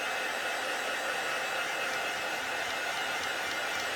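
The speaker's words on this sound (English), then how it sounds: "To help it dry out further, you can use your heat dryer" A heat dryer blows steadily on a wet paper card, a constant loud rushing hiss that lasts throughout with no talking.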